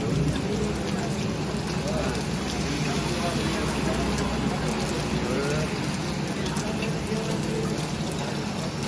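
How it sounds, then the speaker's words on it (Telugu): Steady rain falls around the center of Mandadam in the Amaravati area, a dense, continuous hiss of drops on surfaces that stays loud and even throughout with no break. "వర్షం పడతా ఉంది మందడంలో, అమరావతి ఏరియా ఇది."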